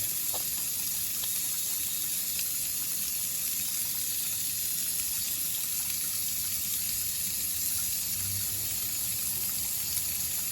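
Water runs in a steady, unbroken stream for the whole stretch as the face of a sharpening stone is wetted during razor honing, with no voices.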